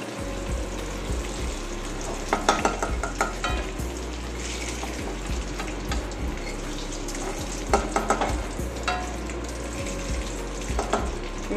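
Fried pointed gourd lifted from hot oil in a kadai, with a steady sizzle and scattered scraping and clinking of a utensil in the pan, alone without talk.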